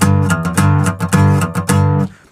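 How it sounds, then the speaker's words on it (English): Strummed guitar chords with muted dead notes on the lower strings between them, a steady rhythmic pattern of ringing chords broken by short percussive chops, close and alone, fading at the end. "you can also get dead notes between chords"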